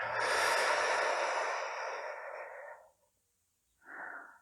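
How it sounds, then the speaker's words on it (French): A slow breath for meditation, drawn in through the nose and let out through the mouth, one long, close airy breath fading out, then a short soft breath after a pause. "Inspire par le nez, expire par la bouche."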